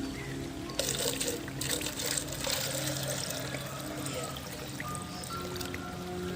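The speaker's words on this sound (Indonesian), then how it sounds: "Botol ini juga bisa kita beri air." Water pours steadily into a plastic Aqua bottle during a mustard-greens planting activity, a continuous close trickle and gurgle that rises in pitch as it fills, with faint background hum and no talking.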